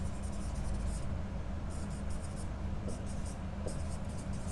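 Marker or chalk writing on a board during a physics lesson, several short bursts of scratchy strokes over a steady hum of background noise, close and with no talking.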